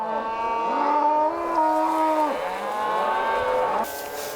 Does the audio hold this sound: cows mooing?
yes